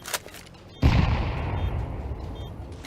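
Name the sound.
grenade explosion and gunfire in video game Arma 3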